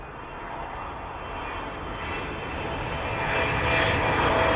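Long-haul airliner touching down after a twelve-hour flight at East Midlands Airport, a continuous engine roar that builds steadily louder over several seconds, heard alone without talk.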